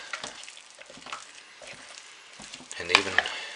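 Soap pieces being stirred into a yellow soap base, giving soft scraping and shuffling strokes that build to a few sharper clinks near the end, close by and fairly quiet.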